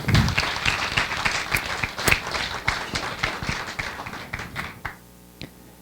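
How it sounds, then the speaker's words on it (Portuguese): A small audience applauds at a talk on systemic constellations, many separate claps that are loud at first, then thin out and fade to a few last taps. "Uma salva de palmas para ela."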